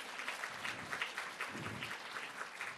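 Quiet but steady applause greets lecturer Juris Rozenvalds at a seminar, an audience clapping in a soft, continuous patter heard from some distance, with no talk over it.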